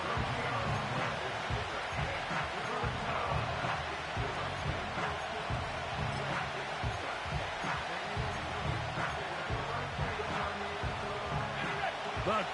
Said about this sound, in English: The crowd making their presence felt.